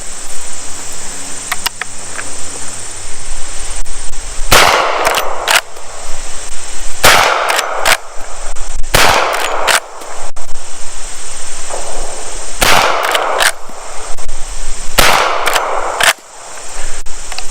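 Several sharp, loud gunshots from a Marlin 1894CP lever-action carbine firing .38 Special rounds outdoors at 40 yards, spaced a few seconds apart, with crickets and insects chirring steadily between the shots.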